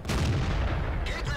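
An artillery shell firing and slamming into a rock in the World of Tanks video game, a heavy booming blast followed by a second sharper crack, close and loud.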